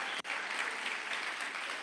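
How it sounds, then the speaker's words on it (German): Brief round of audience applause during a church service, steady dense clapping at moderate volume after a short gap at the start. "Zo, geef maar een applaus voor hen ook."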